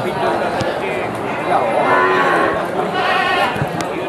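Garut sheep bleat intermittently at the Tanjungsari livestock market amid a busy crowd murmur, with a person talking over them.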